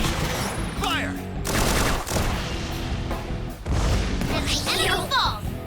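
Gunfire from a Persona 5 Tactica battle: a burst of shots and booming impacts layered over game music and effects, loud and continuous, with a voice calling out in the middle.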